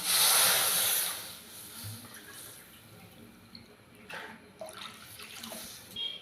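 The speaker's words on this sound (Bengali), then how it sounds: "ওই বাটি মেপে আমি 2 বাটি জল দেব।" Water is poured from a measuring bowl into a bowl of leftover-rice paste, a loud splashing gush at first that settles into quieter trickles and small drips.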